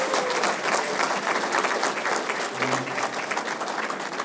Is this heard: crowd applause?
yes